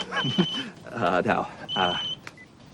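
A mobile phone's electronic ring trills in short, high-pitched bursts while a person talks over it.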